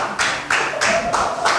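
Children at a Sunday school quiz clap for a correct answer, a few quick uneven claps in short bursts close by, with brief voices mixed in.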